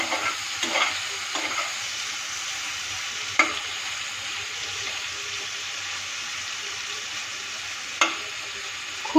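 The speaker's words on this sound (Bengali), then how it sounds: "এখন চিংড়ি মাছগুলোকে ভালো করে একটু ভেজে নেব" Medium prawns coated with salt and turmeric fry in a pan with a quiet, constant sizzle. A few sharp utensil clicks and scrapes mark occasional stirring.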